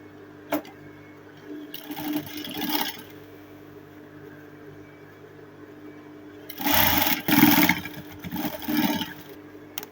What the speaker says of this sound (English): And then I'll start sewing.